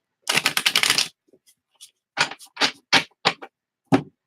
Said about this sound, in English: I want to make sure I get them good and shuffled.